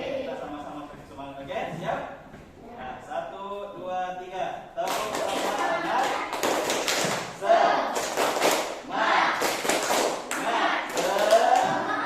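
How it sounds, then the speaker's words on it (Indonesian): A class of children in an Indonesian lesson performs a rhythmic spirit clap: voices talk at first, then many hands strike in sharp, patterned bursts of claps and slaps mixed with chanting voices. "Oke, kita sama-sama tepuk semangat."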